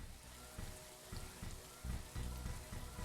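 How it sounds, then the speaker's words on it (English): Acid rain in the sci-fi base-building game The Riftbreaker, a steady soft hiss of falling rain with faint pattering and sizzling, low and continuous throughout. "Acid rain."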